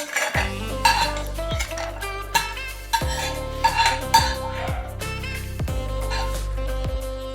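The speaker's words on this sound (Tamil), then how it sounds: "இதை வேறு பிளேட்டில் மாற்றிக்கலாம்." Roasted nuts are tipped and scraped from a metal pan onto a plate. A spoon strikes and clinks against the pan again and again, each hit leaving a bright metallic ring, close up and without speech.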